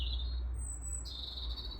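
A small blackbird sings outdoors near a catio on a calm evening, giving clear whistled phrases over steady low background hum, with no one speaking.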